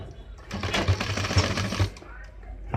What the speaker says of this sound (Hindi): हमने सिलाई ला के रोक दिया है